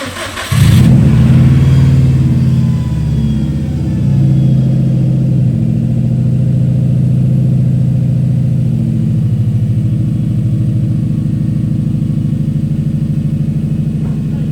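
A Subaru STI with a freshly swapped EJ20X engine cranks and fires up with a loud burst, then settles into a rough, throbbing boxer idle with a brief rev, close and alone.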